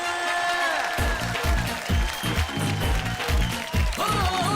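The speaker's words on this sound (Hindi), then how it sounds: "जोरदार तालियां हमारे जजेस के लिए, अमन जी और श्रद्धा जी के लिए।" Applause for Aman ji and Shraddha ji, the judges, on the finale stage of Mele Ka Big Star, carries through a rhythmic music bed with a pulsing beat, steady and fairly loud across the whole stretch.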